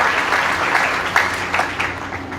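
A church congregation at Sunday Mass breaks into steady, dense applause, many hands clapping together at close range for a couple of seconds.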